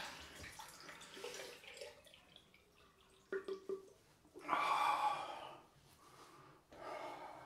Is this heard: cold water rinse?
yes